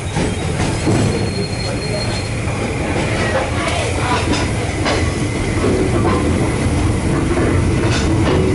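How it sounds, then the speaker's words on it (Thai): Train pulling out of Nam Tok station bound for Thonburi, with loud continuous rolling rumble, rail clatter and occasional wheel squeal throughout, close and steady. "ออกจากสถานีรถไฟน้ำตกนะครับ มุ่งหน้าไปทางสถานีธนบุรีฮะ"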